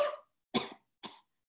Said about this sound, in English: take a little cough